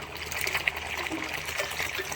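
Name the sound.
washing machine draining water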